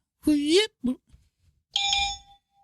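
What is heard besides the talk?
bell sound effect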